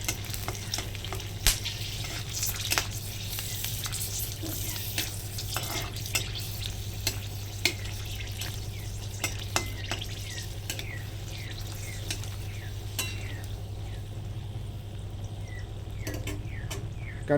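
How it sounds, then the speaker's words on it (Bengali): Mustard seeds and whole dried red chillies crackle in hot oil, a steady close sizzle scattered with quick popping ticks and the scrape of stirring. "সর্ষেটা কাঁচা শুকনো লঙ্কাটাকে তেলের উপর দিয়ে দেবো দিয়ে ভালো করে নেড়ে নেব"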